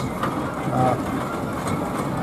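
A 5 horsepower steam traction engine drives in at a steam rally, giving a steady low mechanical rumble and chuff with faint background voices throughout.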